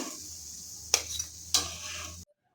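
Chicken and drumstick tikki fry in a pan with a low steady sizzle, broken by two sharp clinks of a utensil against the pan before cutting off abruptly.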